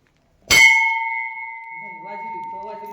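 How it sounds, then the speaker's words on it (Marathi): A single bright temple bell strike rings out with a long, clear, humming tone that fades slowly, and voices begin talking over its tail. "आई घंटी वाजवायची राहिली की हो"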